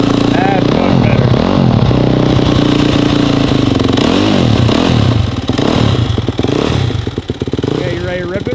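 An Arctic Cat snowmobile with a wiper motor, Whalen tune and Ibexx clutch fires up and runs loud and close, its engine revving with clattering mechanical noise, while people talk over it.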